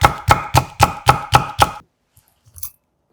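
Seven quick, evenly spaced knife chops through a Cheongyang chili pepper on a cutting board, close and crisp, followed by a few faint clicks.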